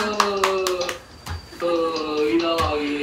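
A father claps his hands at home during a child's homework, giving several sharp claps among voices and someone speaking.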